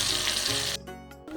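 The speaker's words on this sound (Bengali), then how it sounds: "আলুগুলো আমি একইভাবে ভেজে নেব" Salted, turmeric-coated potato pieces fry in hot oil in a wok, giving a loud, steady close-up sizzle that drops away abruptly after under a second, leaving a quieter, lower hiss.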